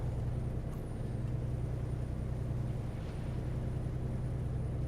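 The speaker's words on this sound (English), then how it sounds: "Can you hear the truck engine in American Truck Sim?" Steady low diesel engine drone of a semi truck in American Truck Simulator, a constant near rumble with no talking.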